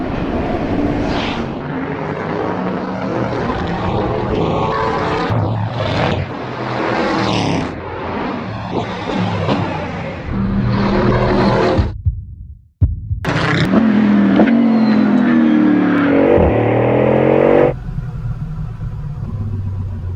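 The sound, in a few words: Bugatti Bolide hypercar accelerating on track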